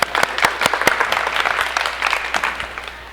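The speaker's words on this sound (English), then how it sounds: "Round of applause." Audience applause after a talk about pool swimming lanes, a steady round of clapping with sharp individual claps standing out, fairly close and tapering off near the end.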